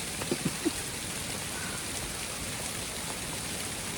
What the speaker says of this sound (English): And it's still hailing. Lots of it piling up out there.